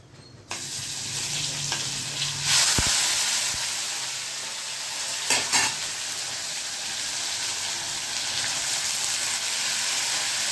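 Cumin seeds and asafoetida crackle as they hit hot oil for a Gujarati dish, a steady loud sizzle with a few sharper pops along the way and no talking.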